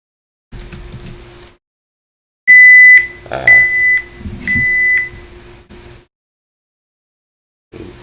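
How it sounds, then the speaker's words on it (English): An alarm goes off nearby as a few loud, clear electronic beeps in quick succession, separated by short pauses and near-silence. "it's my alarm going off telling me I got about 15 minutes to finish this up"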